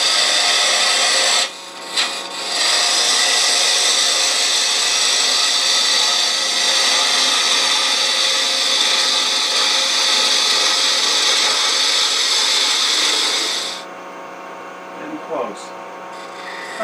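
A gouge cuts a taper on a wooden cube turning on a lathe, giving a loud continuous hissing, rasping cut with a couple of brief breaks near the start before it stops, leaving quieter knocks.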